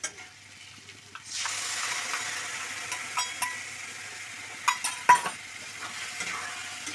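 Turmeric and salt with other spices suddenly start frying in a pan for an Assamese fish curry with data greens, a close, steady sizzle broken by several clinks of a spoon stirring against the pan.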